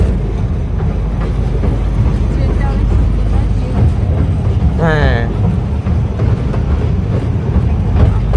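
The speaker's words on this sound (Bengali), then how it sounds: "বড়রা সবাই এনজয় করতেছে এই ট্রেন রাইডটা।" An amusement park ride train in a new park in Rajshahi gives a continuous low rumble, and people talk over it now and then.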